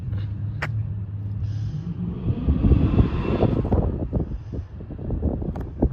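A Chevy Caprice Landau engine idles with its carburetor running rich while being adjusted, a deep rumbling drone that swells in a rev midway before settling back, heard close with no talking.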